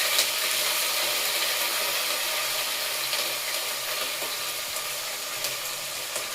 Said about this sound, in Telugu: ఇప్పుడు పచ్చిమిర్చి వేగుతుంది